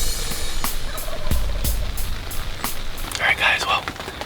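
A wild turkey gobbles at a distance on opening day of Kansas turkey season, one short rattling burst near the end over steady rain pattering and scattered drips at daybreak.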